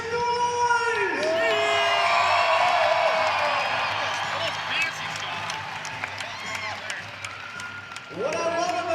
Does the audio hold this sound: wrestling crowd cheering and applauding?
yes